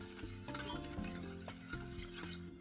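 A cabbage mixture simmers in a pot, stirred steadily with a utensil, giving a continuous low bubbling sizzle and scraping with small clinks, close by and with no talk.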